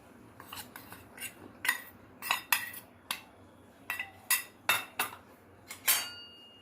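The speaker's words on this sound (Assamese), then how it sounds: "অলপ লৰাই ল'ম।" A metal spoon stirs custard powder into warm water in a bowl, giving about a dozen sharp, irregular clinks and scrapes over several seconds, close and fairly quiet, with no talking.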